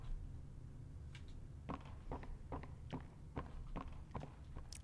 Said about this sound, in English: I hate how loud my footsteps are too.